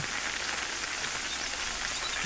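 Steady rain falls on a timber tree plantation, a dense, even hiss of drops on leaves and ground that holds at the same level throughout, with no voices.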